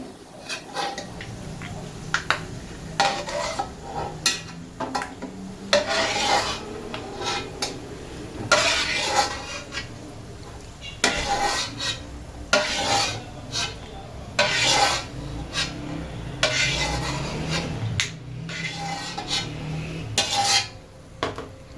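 Fried nuts for Kashmiri peas pulao being lifted out of a pan with a metal spoon, repeated close clinks and scrapes against the pan in an irregular rhythm, loud and without speech.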